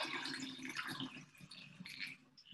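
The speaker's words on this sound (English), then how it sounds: "And then I pour another one in another jar." Probiotic culture liquid is poured through a funnel into a jar, making a soft, close, continuous trickle and splash with small gurgles, quiet and alone.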